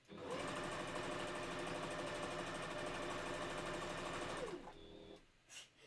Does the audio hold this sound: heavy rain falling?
no